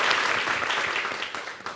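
An audience at a television show applauds a guest musician, a dense, steady patter of clapping close by that eases slightly toward the end.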